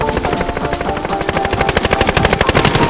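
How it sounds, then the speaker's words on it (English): Rapid automatic gunfire in the Call of Duty Warzone video game rattles out in fast, evenly spaced bursts, loud and close over a steady rotor-like hum, growing denser toward the end. "I hear gunfire over here."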